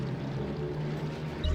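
Geyser water bubbling and boiling in Oxygen Not Included, a steady dense seething wash of liquid that holds level throughout, with a brief lower hum joining at the very end.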